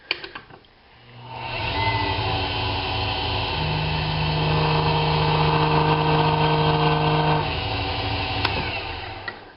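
A lathe spins up and runs steadily for several seconds while cutting a cork fishing rod handle, giving a continuous whirring motor tone with a rising pitch midway, then winds down near the end.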